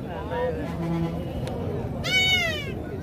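A milk-fed goat kid bleating, with a couple of wavering cries near and loud, the clearest one toward the end, heard over voices talking in the background.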